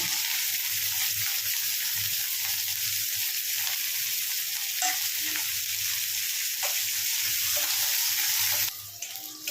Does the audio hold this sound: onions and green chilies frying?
yes